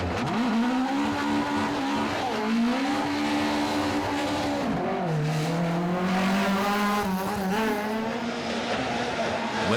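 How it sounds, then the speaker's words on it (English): Historic rally car engine revving hard through a spin on the Moll's Gap stage of the 2017 Killarney Historic Rally, with loud wavering revs rising and dropping, tyre noise underneath and a brief dip midway. "2nd, James McCarville and Paddy McCrudden, despite this hard revving spin on Moll's Gap."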